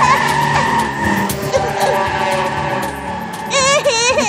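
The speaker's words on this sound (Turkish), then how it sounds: "Görünmez bir araba." An invisible car in a Pocoyo cartoon screeches in a loud skidding tire squeal, with a wavering squeal rising near the end under faint background sound.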